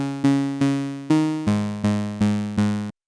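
A Serum synth pluck built from a saw wave with a shaped envelope plays a short bright melodic phrase of about eight evenly spaced notes, each striking sharply then decaying, loud and alone before stopping abruptly.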